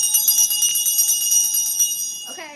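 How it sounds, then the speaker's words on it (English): A hand bell rings rapidly and steadily for about two seconds, bright and close, its clanging strokes overlapping before a voice starts to speak at the end. "I bring out my bell when I'm making a good point."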